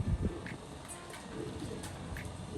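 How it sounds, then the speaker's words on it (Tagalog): Pigeons cooing softly near a coop as birds are coaxed inside, low murmuring coos and a few faint chirps repeating over about two and a half seconds at moderate distance. "Mga ibon natin pumasok na yung dalawa ayaw pa oh."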